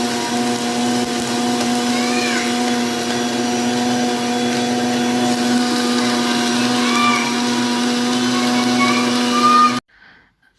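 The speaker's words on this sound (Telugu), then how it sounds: "చూసారుగా ధైర్యబాబు మిక్సీ సౌండ్కి చుట్టూ తిరుగుతూ ఉన్నాడు." A mixer grinder blends muskmelon juice with a loud, steady motor whine and hum that runs continuously for about ten seconds, then cuts off abruptly, leaving near silence.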